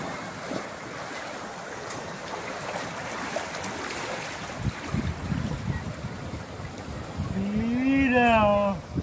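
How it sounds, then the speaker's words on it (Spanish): Ocean waves rolling in at a beach in Viña del Mar, a broad surf wash building and breaking amid wind noise, with someone talking and a dog nearby. "ahí viene una ola"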